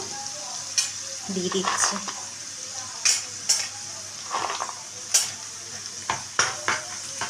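Cashews frying in a pan for egg fried rice give a soft sizzle under repeated scraping stirs and sharp utensil clinks against the pan. A brief voice speaks near the start.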